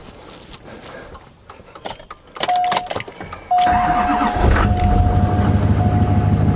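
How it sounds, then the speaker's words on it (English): A truck engine cranks briefly and then catches and settles into a loud, steady idle after being started with a portable jump pack, a steady electronic beep sounding before and during the start. "It started the truck a second time."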